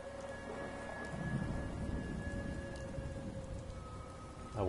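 In the Fallout video game, a storm hisses with constant rain while thunder rumbles low and heavy, swelling midway and again at the end, with faint sustained game tones above.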